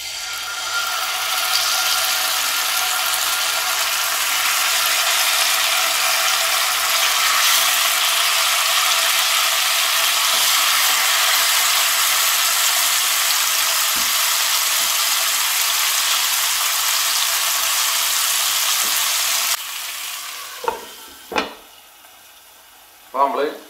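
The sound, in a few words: chicken shashlik skewers frying in a pan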